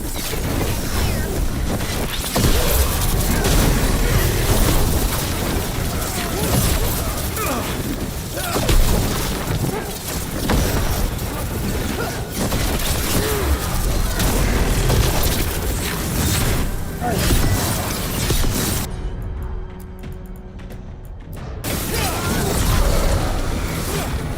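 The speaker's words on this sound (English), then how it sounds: "They've got mortars!" Mortar fire in Dragon Age: The Veilguard, repeated booming blasts and crashes over a dense, loud battle din with voices, dropping out briefly toward the end.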